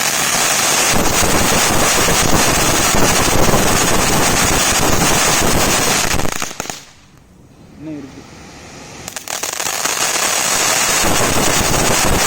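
Dense, loud crackling bursts of fancy night firecrackers going off continuously, broken by a brief quiet pause before the popping resumes.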